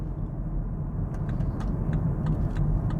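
Cars overtaking on a Madrid motorway near the M50 past a huge two-lane-wide oversized load, heard as a steady low road rumble with faint passing swishes, no talk.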